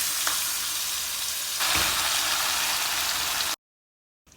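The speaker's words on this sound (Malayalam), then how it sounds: "ഇനി ഇതിലേക്ക് നമ്മളായി കപ്പ എല്ലാം കൂടി അങ്ങ് ഇട്ട് കൊടുക്കുക" Dried tapioca pieces tipped into hot oil in a pan, giving a steady, loud sizzle and crackle that swells once the pieces land and keeps going, then cuts out abruptly.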